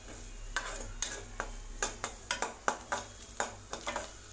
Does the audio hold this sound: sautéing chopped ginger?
yes